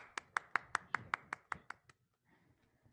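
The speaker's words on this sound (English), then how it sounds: "Let's start things off with a great big round of applause for" A single pair of hands claps about nine times in an even rhythm, close and fairly quiet, honoring a science presenter at a museum studio, then fades into near silence.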